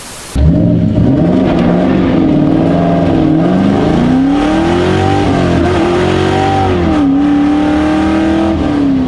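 A bolt-on New Edge Ford Mustang accelerates hard with its wheels spinning, a loud, close V8 roar that rises in pitch, dips at shifts and climbs again, continuous and alone.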